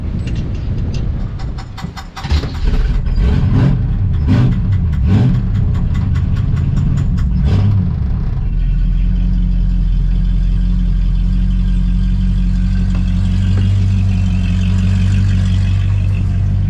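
A freshly swapped 454 big block V8 in a K5 Blazer cranks with a rhythmic churning for several seconds, then fires and settles into a loud, rough, steady idle close by.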